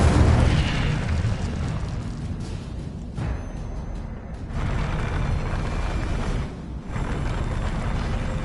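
Incendio fire spell blasts in Hogwarts Legacy: dense, roaring bursts of booming fire noise that hold steady, loud and close, with no talking.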